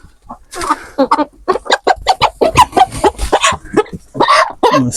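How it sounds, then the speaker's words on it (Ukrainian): Broiler chickens clucking close by in a busy run of short, repeated calls, with a few louder squawks mixed in. "Ну, сейчас курочку достану."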